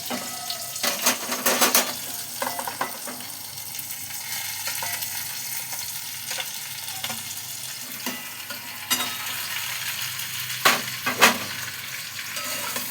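Ridge gourd and potatoes fry in a pan with a continuous loud sizzle, and a spatula stirs and scrapes in irregular strokes against the metal, close up with no talking.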